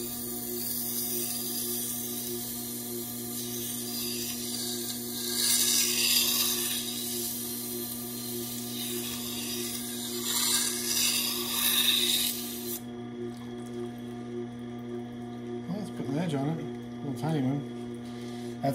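A stainless steel business card knife is ground on a 1000 grit sharpener in repeated rasping passes over a steady mechanical hum, and someone speaks near the end.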